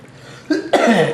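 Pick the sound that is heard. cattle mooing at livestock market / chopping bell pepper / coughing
coughing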